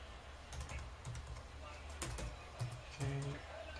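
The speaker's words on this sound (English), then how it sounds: "So many typing going on." Typing on a computer keyboard, a quiet run of close, irregular key clicks with a brief faster burst near the end, faint background murmur.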